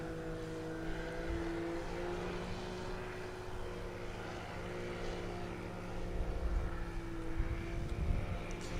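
A STOL aircraft at a Sodbusters STOL competition practice in Hartford, Wisconsin runs its engine at full takeoff power near the limiter, a steady droning propeller roar swelling louder toward the end.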